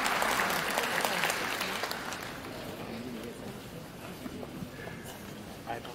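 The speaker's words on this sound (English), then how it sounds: "One more round of applause for His Excellency" Audience applause at the closing of a wage bill conference, a dense sustained clapping from a large crowd that is loudest at first and gradually thins and fades over six seconds, with faint voices mixed in.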